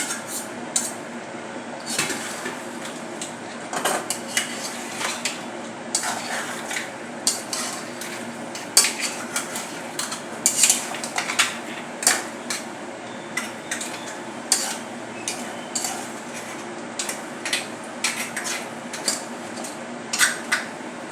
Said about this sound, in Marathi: आता आपण यामध्ये घालणार आहोत हे खेकडे. चांगले मिक्स करून घेऊया.